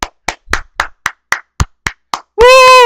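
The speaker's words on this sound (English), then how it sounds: "I'm going to do a clapping here" Hands clap nine times in a steady, close rhythm, loud and sharp, before a whooping voice cuts in at the end.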